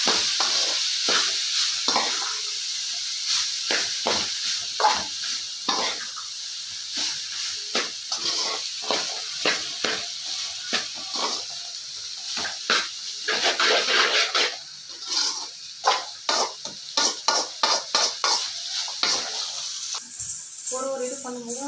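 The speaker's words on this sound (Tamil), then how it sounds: "பாயில்டு நூடுல்ஸ் ஆட் பண்ணிட்டு நல்லா காயோட மிக்ஸ் பண்ணிடலாம்." Boiled egg noodles tossed with vegetables in a hot pan give dense, rapid scraping and stirring clatter over a steady sizzle, continuous and close, growing busier toward the end.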